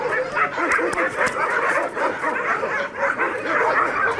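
Several dogs bark and yip together in an animal shelter, a dense, continuous chorus of overlapping barks close by with no pause throughout.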